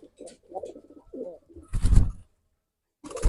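A pigeon coos softly in a few short murmuring phrases, close by, with a sharper burst of sound midway through; the bird is suffering from bloating.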